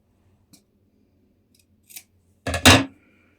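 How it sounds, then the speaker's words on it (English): Scissors trimming excess fabric at a sewn V seam of a winter top: a couple of faint snips, then one loud, close, drawn-out cutting crunch through the cloth. "You might want to trim a bit away just to get rid of some of that excess."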